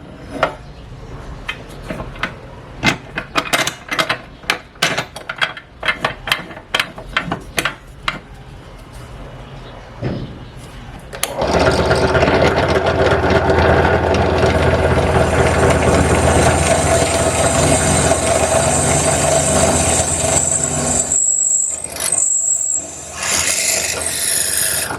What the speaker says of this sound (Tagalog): Nabutas ko agad at napakaganda talaga at napakadaling magbutas pag meron kang drill press.